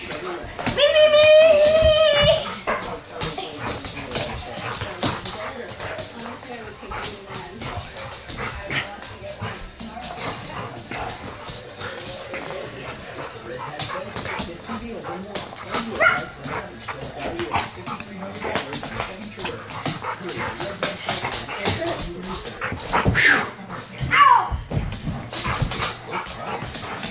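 A dog whines and yelps on and off among busy household noise, with someone talking and people's voices throughout.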